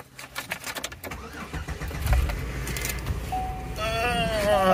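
A car engine cranks and starts, settling into a steady running rumble that grows louder toward the end, with a high tonal whine near the close and faint background noise.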